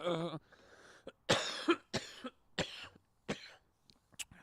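Repeated bursts of coughing, close by, in a ragged series of sharp hacks with short gaps, after a brief voiced sound at the start.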